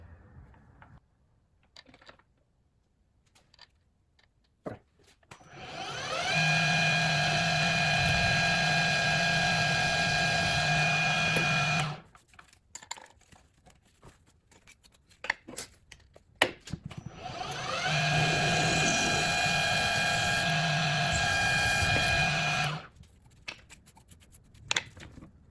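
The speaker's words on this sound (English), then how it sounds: "Got both of these drilled out" Drilling holes through custom flip-over decklid hinges for a Porsche 911R, two sustained high-pitched whining drill runs of about six seconds each, close and loud, separated by quieter handling clatter.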